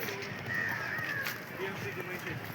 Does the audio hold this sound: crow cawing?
yes